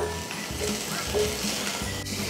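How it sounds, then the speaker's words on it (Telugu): Sliced onions frying in a pan until brown for jeera rice with onion gravy, a steady close sizzle with faint stirring scrapes and no talking. "ఉల్లిపాయలు కొంచెం బ్రౌన్ కలర్ వచ్చే వరకు వేయించుకోవాలి."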